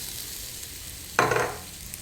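A sudden burst of sizzling erupts as grated coconut hits hot oil with chana dal, urad dal and dry chilli, loud and close, then fades into a softer crackle.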